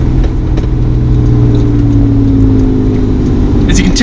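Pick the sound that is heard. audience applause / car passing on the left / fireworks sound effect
car passing on the left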